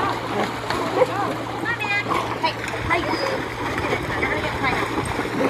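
A Great Dane dog dives off a dock and splashes into water, one sharp splash near the start followed by sloshing and churning water, with people talking nearby.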